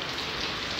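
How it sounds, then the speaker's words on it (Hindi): Heavy rain pours steadily in Karachi, a dense, even hiss of downpour with no breaks, close and loud throughout. "पूरे 1 साल बाद फुल तेज़ बारिश हो रही है।"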